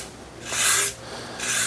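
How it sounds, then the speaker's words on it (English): A file rasps against a Utica Bell System cable splitter tool being restored, giving two close, scraping strokes with a short gap between them and no voices. "think that the files and just working my way up in grit on sandpaper is going to be fine enough."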